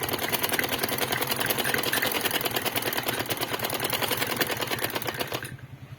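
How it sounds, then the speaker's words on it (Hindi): A sewing machine stitches a salwar at a steady rapid rhythm, loud and close, running for several seconds before stopping abruptly near the end. "आधा अब रहता है, इसको सिलाई लगा रही हूँ"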